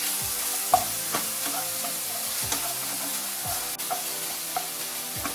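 Okra and onions frying on a low flame with ginger-garlic paste, a gentle constant sizzle under occasional spoon strokes scraping the pan at irregular intervals, close and unaccompanied by speech.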